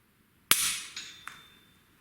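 Practice gun fired at home: one sharp loud crack with a ringing tail, then a few lighter clicks, including a final tap near the end, in an otherwise quiet room.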